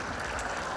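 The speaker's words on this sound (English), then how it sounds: "another big round of applause, please" Applause from a dog show audience at a Best in Show ring, a dense, steady wash of clapping filling the space without pause.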